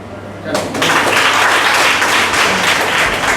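An audience at a college award ceremony breaks into loud, sustained applause after a short pause, a dense wash of clapping that fills the rest of the moment.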